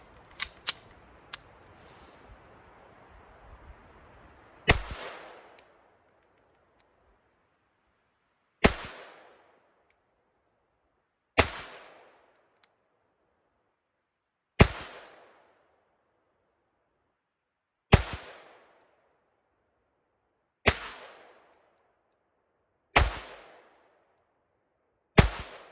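Eight sharp CZ27 pistol shots fired at a 10-yard target, loud and near, spaced a few seconds apart with a ringing decay after each, following a short stretch of handling noise.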